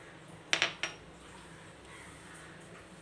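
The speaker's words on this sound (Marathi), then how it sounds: "आता मी थोडंसं ड्रायफ्रूट्स घालत आहे वरून." Dry fruits dropped onto an apple smoothie give three quick, light clinks against a glass or dish, close and crisp, then quiet room tone follows.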